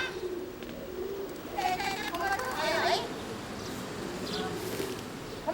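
City pigeons cooing in a park, soft low coos and calls repeating at moderate distance over steady outdoor ambience, with a voice speaking over them.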